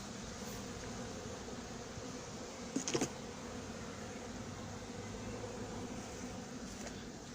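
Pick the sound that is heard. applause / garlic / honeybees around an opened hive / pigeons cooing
honeybees around an opened hive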